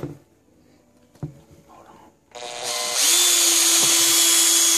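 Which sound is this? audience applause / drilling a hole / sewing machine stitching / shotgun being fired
drilling a hole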